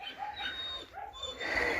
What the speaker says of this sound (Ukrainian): А ті собаки воно скавчать, щоб до них йшла.